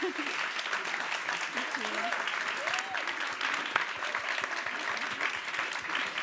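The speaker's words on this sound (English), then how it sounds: "I would like to ask for another round of applause" A room of people applauds a team's solution, a dense, continuous roar of clapping that holds steady throughout, with voices faintly audible beneath it.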